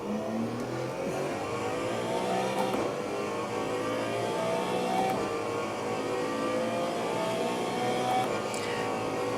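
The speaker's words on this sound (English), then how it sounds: "I like the sounds of the cars at the moment." Race car engines in Assetto Corsa Evo roar continuously and loud, revving up through gears with shifting pitch over about ten seconds, no voices.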